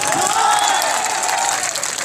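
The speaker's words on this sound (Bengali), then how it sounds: "কি হাততালি কম মনে হচ্ছে" An event audience gives a sustained burst of clapping, steady and fairly loud across a crowd, with a faint voice mixed in.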